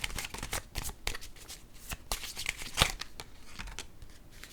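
Tarot cards shuffled steadily for several seconds, a dense run of crisp riffling and slapping card sounds, close and fairly loud, with no talk over it.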